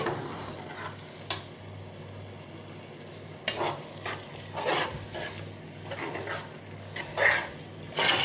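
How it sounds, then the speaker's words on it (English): Soft, steady sizzling of tomato frying in a pan for turkey stew, broken by occasional clinks and scraping stirs. "my tomato is frying"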